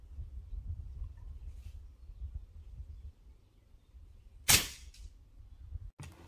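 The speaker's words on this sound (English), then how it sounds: "the Crossman Fury NP, a nitrous piston brake barrel air rifle, which is of medium loudness." A single sharp crack from a Crosman Fury NP nitrous piston break-barrel air rifle rings out once at moderate loudness over a quiet outdoor background, followed shortly by a softer thud.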